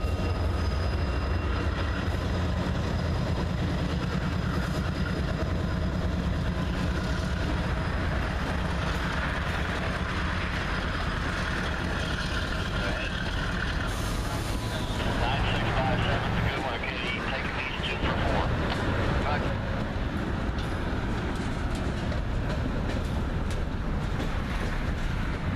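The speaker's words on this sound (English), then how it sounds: "As the train goes into the yard, we have one train departing the yard while an intermodal heads through on the main line." A freight train rolling past near Conway Yard, a steady rumble of wheels and cars with faint squeals and clatter, fairly distant and continuous, with a voice talking over it.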